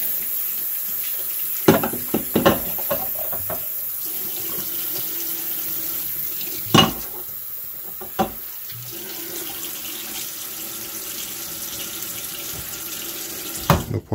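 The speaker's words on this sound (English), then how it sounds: "So I'm just going to give these things a final rinse." Wine bottles rinsed under a running tap, a steady stream of water with a few sharp clinks and knocks of glass against the sink, close and alone.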